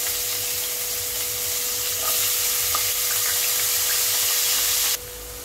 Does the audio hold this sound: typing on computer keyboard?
no